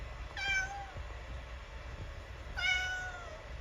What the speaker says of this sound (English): He's a very vocal cat